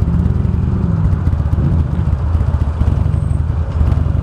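A 2009 Buell Lightning Long XB12SS motorcycle ridden on a hot day, its engine a steady close low rumble with wind noise buffeting the microphone throughout.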